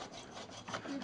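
A saw rasps briefly through maple burl wood, cutting a natural-edge bowl free, a short rough stroke heard close and alone.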